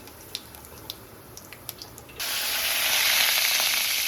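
Cumin seeds hit hot oil for a tempering, a sudden steady sizzle that starts partway through and holds loud and close, preceded by a few faint clicks.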